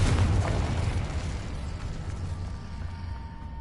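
A Confringo fire spell bursts in the Hogwarts Legacy video game, a loud booming explosion up front that decays into a lingering rumble and crackle over a few seconds, with no voices.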